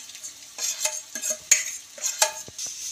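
Boiled, mashed potatoes stir-fried with onions in a pan: irregular spatula scrapes and taps over a soft, low sizzle, heard close up with short pauses between strokes.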